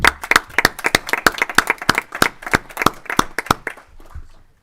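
Brief round of applause in a Senate education committee hearing room, crisp steady claps from a modest group that taper off after about four seconds.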